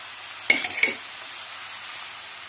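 Beetroot fries in a pan with golden onion and carrot, giving a soft, even hiss. Two or three quick scraping clinks of a utensil come close together near the start, and the quiet sizzle then carries on alone.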